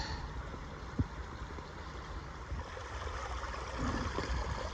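Creek water flows steadily through a park in Austin, a continuous broadband rush and gurgle that holds close and even throughout, with a brief knock near the start and no talk.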